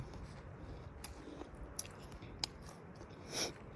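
Someone chews a crunchy edible plant close up, with a few faint, sparse crisp crunches and bites over quiet background.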